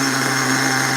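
A small RC monster truck engine idles steadily up close, a continuous buzzing drone with no talk over it.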